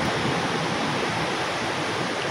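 Strong ocean waves break at Bucana beach in a steady, broad roar of surf, a dense continuous wash of noise with no pauses and no voices.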